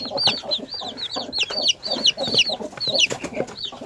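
Hens cluck and chatter repeatedly in a busy flock, with overlapping calls and farmyard noise continuing throughout.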